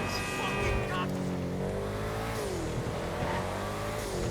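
HSW Astron Custom car in GTA 5 Online accelerating, its engine note rising and shifting through gears in a steady, loud whine with a low rumble, continuous throughout.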